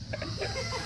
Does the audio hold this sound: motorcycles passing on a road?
no